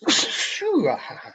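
One sharp, loud human sneeze bursts out close by, followed by a short exhaled vocal sound.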